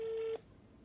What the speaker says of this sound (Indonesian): saya udah coba telepon ya 157 dan ini kita coba dengar bareng-bareng ya kan